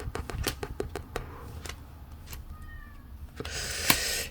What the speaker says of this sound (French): Le chat qui pleure derrière.